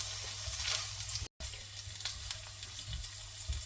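Chopped ginger frying in hot oil for keema samosa filling gives a steady soft sizzle with a brief cut partway through, fairly quiet and without speech.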